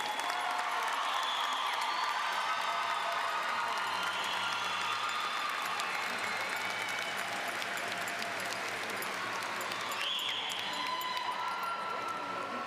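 A large crowd at a high school commencement ceremony applauds the graduating class, with sustained, dense clapping and scattered cheers lasting the whole stretch, steady and fairly distant.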